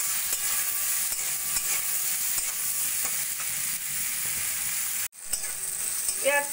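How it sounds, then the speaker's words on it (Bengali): Diced onion and salt fry in a pan, a steady close sizzle with stirring scrapes that drops out briefly near the end before resuming. "এবার সবকিছু ভালো করে একটু ভেজে নেব।"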